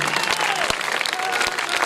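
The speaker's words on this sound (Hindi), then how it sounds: "इन बच्चों के सम्मान में जोरदार ताली बजा दीजिए" An audience at a stage performance in Kawardha gives loud applause in honour of the children, steady dense clapping throughout, close and full, with no talk over it.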